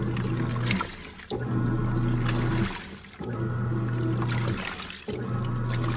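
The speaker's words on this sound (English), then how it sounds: "You should be hearing the swishing of water." Water swishes and sloshes rhythmically in a portable washing machine washing small rugs, with the agitator's hum cycling on and off in repeating pulses roughly every two seconds.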